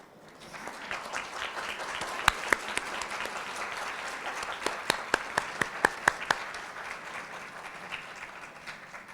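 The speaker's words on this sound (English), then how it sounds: "Thank you for that well-deserved applause." An audience at an academic excellence awards ceremony applauds faculty and staff, a sustained wash of many hands clapping with a few sharper, closer claps standing out before it gradually thins.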